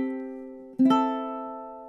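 Ukulele strumming measure 20 of a song, a ringing chord that decays, then a sharp strum at mid-clip leading into another sustained chord, played alone and up close.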